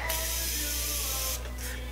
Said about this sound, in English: So I'm going to spray this with my Morphe